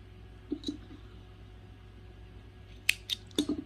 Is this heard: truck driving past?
no